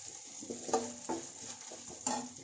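Cashews and raisins frying in a pan, a faint low crackle broken by light scraping stirs and small clinks, fairly quiet.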